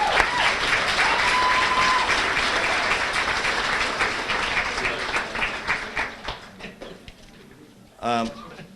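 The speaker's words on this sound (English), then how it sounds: "he deserves a round of applause just for the amount of work and effort he does" A crowd at a high school sports banquet gives a sustained round of applause, dense clapping that thins and fades out, followed by a voice speaking alone near the end.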